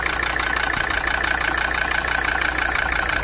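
A Mercedes 300SD diesel engine idling steadily up close, a continuous rough rumble with a constant hum and no voices.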